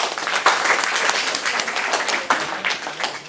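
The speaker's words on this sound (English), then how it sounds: "Can we clap for the girls?" Classroom audience clapping for the girls after their speaking-skills introductions, a steady dense patter of many hands that runs the whole time, fairly loud and close, with no talk over it.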